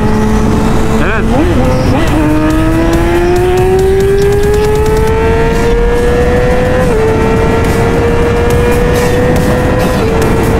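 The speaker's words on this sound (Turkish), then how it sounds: "az önce bir kalkış yaptık ama daha fazla gaz açılabilir tabii ki" Yamaha R7 and R6 motorcycles launch from a standstill, engines climbing in pitch through the gears as they accelerate hard, loud and close with steady engine drone throughout.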